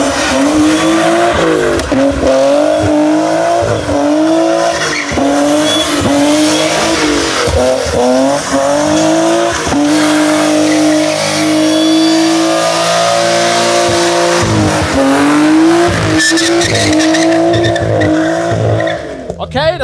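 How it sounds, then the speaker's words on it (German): Two cars, one a BMW E36, drift together, engines revving hard and rising and falling in pitch as tires squeal continuously, loud and close for about twenty seconds. "unsere Stuntmänner driften das erste Mal die beiden Autos zusammen"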